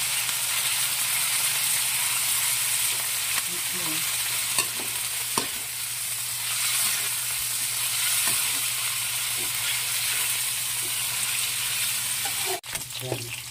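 Meat sizzles steadily in a hot pan while pakbet cooks, a constant bright frying hiss with occasional stirring clicks and scrapes and no talking.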